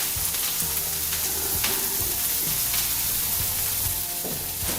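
Brussels sprouts sizzle in bacon fat in a skillet, a steady, close frying hiss running throughout with faint crackles and a low hum underneath.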